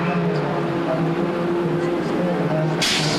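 A race car at Le Mans in 2001 heads back out of the pits on fresh slick tires, its engine a steady droning whine under a commentator's voice, ending in a brief hiss.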